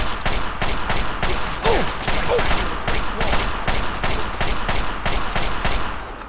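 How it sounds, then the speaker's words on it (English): Artillery rounds firing in the Fallout 3 Operation: Anchorage video game, a rapid, regular barrage of loud sharp reports repeating steadily throughout with no pause. "Yeah, they're definitely firing off artillery."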